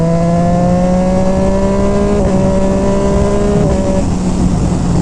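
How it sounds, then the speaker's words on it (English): A 2018 Triumph Street Triple 765 RS three-cylinder motorcycle revs hard, its loud engine note holding high and steady, then dipping and rising as the rider rev-matches, over strong wind rush. "Rev matching is always fun."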